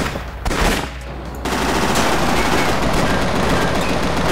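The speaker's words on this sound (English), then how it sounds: "Nail cannon is a high rate of fire, decent damage weapon." A nail cannon fires at a rapid rate in Cortex Command, a fast continuous stream of loud, close shots that rattle nonstop after a brief burst and pause at the start.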